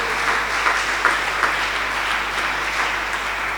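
A church congregation applauds the Lord, a steady sustained clapping from many hands with a few sharper claps standing out, filling the room.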